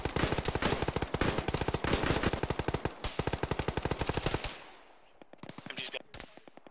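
Sustained automatic gunfire in a military shooter game, a dense stream of rapid loud shots that stops abruptly near the end and leaves a softer, quicker burst further off, with talk underneath.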